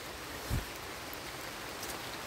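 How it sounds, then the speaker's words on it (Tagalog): Steady rain hisses over a hiking trail up Mt. Parawagan in Rodriguez, Rizal, a dense, even wash of drops with one brief low thump early on and no talking. "Lumalakas na naman yung ulan."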